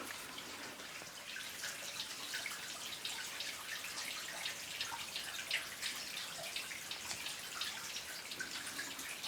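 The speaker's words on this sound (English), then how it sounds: "You guys just hear how peaceful this water is that's just dripping and flowing in here." Water drips and trickles inside an abandoned underground mine, a quiet, continuous patter of small droplets and thin flow with a faint echoing wash, and no voices.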